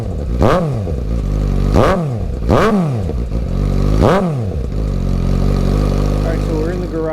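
Suzuki GSX-S750Z motorcycle engine with its stock shorty exhaust, revved in four sharp blips that rise and fall over a steady idle, loud and close, alone without talk.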